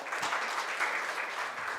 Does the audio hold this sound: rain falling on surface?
no